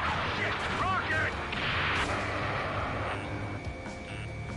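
Ace Combat 7 combat scene, with a rocket blast and bursts of gunfire crackling amid a roaring jet and explosion rumble, dense and loud, as voices call out over the noise.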